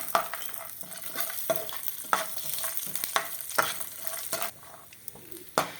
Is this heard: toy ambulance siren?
no